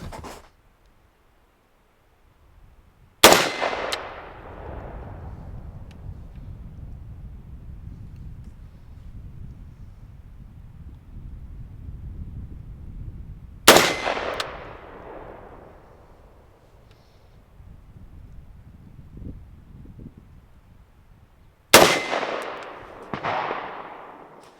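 Three sharp rifle shots from a CYELEE T10 rifle ring out outdoors several seconds apart, each a loud crack followed by a long rolling echo that fades into wind noise.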